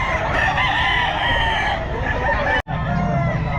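A Cuban gamefowl rooster at a pet market crows loudly and close by, one long sustained call over a busy background hum.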